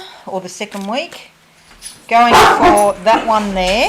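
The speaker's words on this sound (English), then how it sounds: "That's my dog's barking" A dog barks indoors: several close, sharp barks and yips in quick bursts, with someone talking over and between them.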